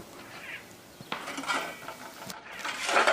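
A girl washing dishes with water fetched from a well: clinks and knocks of metal pots and utensils, scraping and splashing in uneven bursts, close and alone, growing busier toward the end.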